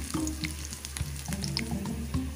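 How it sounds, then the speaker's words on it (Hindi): Onions frying and slowly browning in a pan for aloo bharta, a steady close sizzle with soft scraping stirs through it, no talking. "इधर मेरी प्याज लाइट ब्राउन कलर में आ रही है धीरे धीरे"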